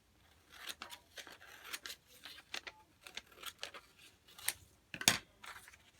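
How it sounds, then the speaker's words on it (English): Scissors snip through paper being cut in half for a craft project, a series of quiet, crisp cuts at an uneven rhythm with a louder snip near the end. "okay, so I'm going to cut this in half."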